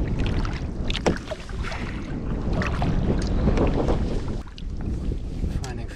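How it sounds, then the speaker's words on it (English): Steady wind roars and buffets the microphone outdoors on an open lake in early spring, a constant rough rushing noise with voices faintly underneath. "It's a windy day today."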